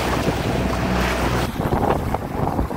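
Waves and a strong headwind hit a sailboat heading into them off the Turkish coast, a loud continuous rush of wind noise on the microphone with water splashing against the hull.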